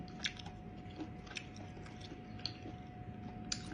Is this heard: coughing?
no